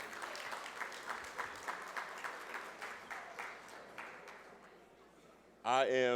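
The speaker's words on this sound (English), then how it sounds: "Round of applause if you're feeling pretty good this morning." A conference audience at a morning session gives a round of clapping that fades gradually over several seconds, with a voice starting to speak over the dwindling applause near the end.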